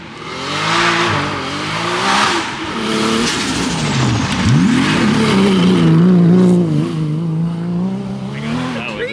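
A Nissan Skyline GTR engine revs hard and close, its pitch rising and falling through repeated pulls, with tires squealing and a voice talking over part of it.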